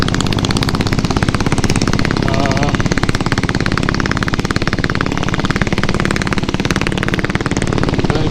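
Diesel Royal Enfield Bullet motorcycle engine while riding, a loud, close, steady thumping chug with a rapid even beat that holds for the whole stretch, with a voice talking over it.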